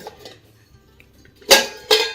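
A heavy metal cooking pot is handled during house cleaning, with two loud clanking knocks near the end after quieter faint rattles.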